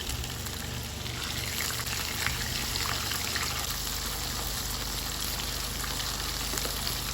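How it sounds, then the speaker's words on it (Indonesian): Marinated tuna pieces frying in a pan of oil, a steady dense crackling sizzle heard up close, continuous and even throughout with bright spitting and popping. "kita berikutnya goreng ikan tuna yang sudah kita ungkep tadi ini"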